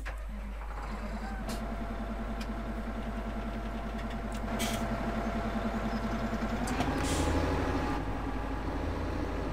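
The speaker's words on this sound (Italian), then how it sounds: "Sentiamo anche il motore." A vehicle engine in Farming Simulator 17 idles with a steady low hum, rising slightly in pitch as it revs gently, alongside faint clicks.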